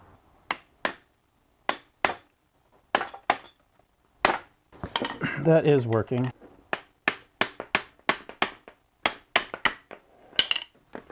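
A hammer knocks repeatedly on the aluminum steering rack of a BMW E46, sharp metallic strikes in irregular bursts, close and loud, with a short stretch of someone talking partway through.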